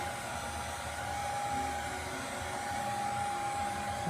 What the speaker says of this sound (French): plus on chauffe, évidemment plus ça va être facile d'enlever la pièce, d'enlever le thermopad